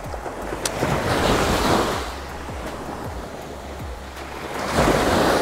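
Ocean surf breaks and rushes up a summer beach, a steady broadband wash that swells at the start and again near the end, with wind buffeting the microphone and no voices.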